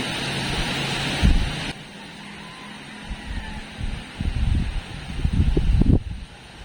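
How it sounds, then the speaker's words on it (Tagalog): Gusty wind after a typhoon buffets the microphone outdoors by a backyard vegetable garden, rising and falling in rumbling bursts with rustling in the background. "Nakadaan na yung bagyo kagabi pero malakas pa rin ang hangin."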